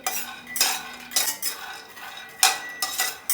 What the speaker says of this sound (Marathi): शेंगदाणे पण आपल्याला मिडियम गॅसवरती छान भाजून घ्यायचे आहे